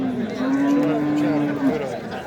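A cow gives one long, low, sustained moo, close by, with faint background chatter at a livestock market in Sariosiyo, Uzbekistan.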